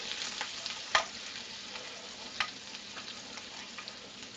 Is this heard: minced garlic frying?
yes